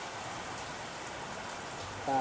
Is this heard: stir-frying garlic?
no